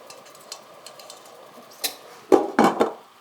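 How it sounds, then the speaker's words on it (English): A few light clinks of metal, then a couple of louder clattering knocks as a lid settles onto a pot of steaming sweet yeast dumplings, close by. "and I'll also close this lid"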